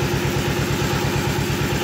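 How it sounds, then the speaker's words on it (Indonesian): A soybean grinding machine in a tofu factory runs with a loud, steady mechanical drone and a fast regular thumping pulse. "mesin penggiling kedelai tetap nyala teman-teman"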